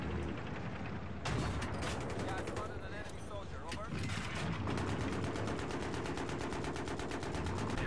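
Tank light machine gun in Battlefield 3 firing a continuous rapid stream of shots, loud and sustained with a brief break, under a faint talking voice.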